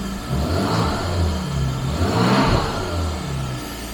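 A Jaguar XJS V12 engine idles with a deep steady rumble, then revs up and drops back in a couple of swells, loud and close.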